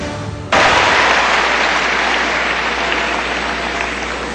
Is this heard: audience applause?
yes